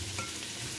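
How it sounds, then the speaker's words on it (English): Lobster sauté dressing sizzling steadily in a pan, a soft continuous frying hiss heard close with no talk, brief and even throughout. "I'm gonna just get that saute down for a little bit"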